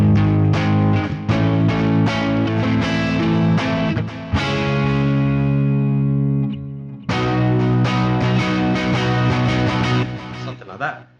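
Electric guitar chords from a song's progression ring out through distortion and chorus effects, strummed in rhythmic bursts with one sustained break midway, loud and close.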